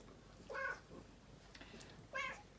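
A domestic cat meows twice, each cry short and fairly close, separated by a quiet stretch of low room noise.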